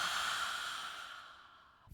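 An ujjayi yoga breath exhaled through the mouth, a close, steady breathy hiss that slowly fades over about two seconds.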